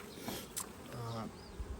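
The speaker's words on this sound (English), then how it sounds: "Lots of bees in here. The population has grown." Honey bees buzz around an open beehive during a frame inspection, a close, steady hum with a lower drone passing briefly.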